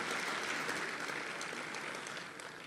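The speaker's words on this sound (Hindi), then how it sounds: "जोरदार तालियों से ऐसे मोहतरम शायर का इस्तकबाल होना चाहिए।" Dense crowd applause for Urdu poet Tahir Faraz at a poetry gathering, a steady, even wash of many clapping hands heard somewhat distant and fairly soft throughout.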